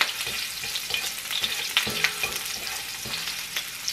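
Ginger frying in a pan for chicken adobo, a bright, continuous sizzle close to the pan with scattered crackles and a few stirring scrapes, no voices.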